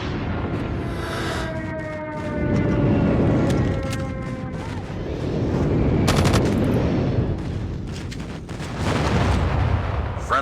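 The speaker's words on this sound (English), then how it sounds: "Friendly airstrike incoming." Heavy bursts of gunfire and explosive rumbles fill a match of COD Mobile Capture the Flag, with dense machine-gun rattle, booming blasts and rolling roars rising and falling over about ten seconds, loud and continuous.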